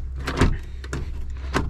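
Stuck, frozen door of an old Ford Powerstroke pickup with 300,000 to 400,000 miles being tried: a few short, loud mechanical clunks and rattles close by, spaced over under two seconds, with no talk.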